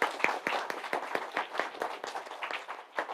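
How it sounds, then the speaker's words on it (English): Attendees at a Salesforce developer group session in Bengaluru give a round of applause, a quiet, fairly steady patter of claps that sounds somewhat distant. "Give him a big round of applause."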